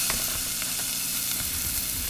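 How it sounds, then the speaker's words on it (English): Onions sizzle hard in a hot pan, a dense, steady hiss of frying that holds at the same level throughout, close and fairly loud with no talking over it. "See, the onions are sizzling."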